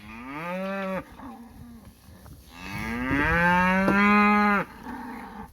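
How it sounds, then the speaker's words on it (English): Cows in a pen on a Texas cattle and hay farm, two long, loud, close moos, the second deeper and drawn out, with quiet rustling between them. "I've got a few cows in here"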